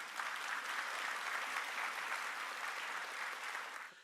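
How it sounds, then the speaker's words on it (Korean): A church congregation gives the choir a steady, dense round of applause, an even wash of many hands that fades out at the end. "한번 뜨거운 박수 해주세요."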